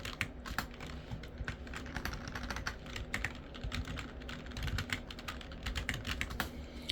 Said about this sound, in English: we can type the data, we can type the user text